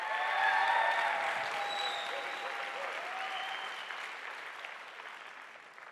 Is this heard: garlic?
no